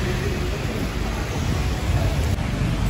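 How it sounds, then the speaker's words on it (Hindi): Steady rain falling outside a restaurant in Udaipur, a continuous broadband hiss of moderate loudness with no talk over it. "ना बारिश हो रही है"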